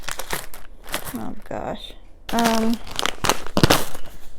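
A bag of Crazy Sour Skittles crinkles and crackles as it is worked open, the plastic packaging rustling in bursts under close, excited talk from a woman.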